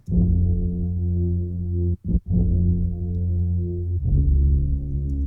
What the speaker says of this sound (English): So that piano sound is also the bass for the song, pitched downward, played on a sampler,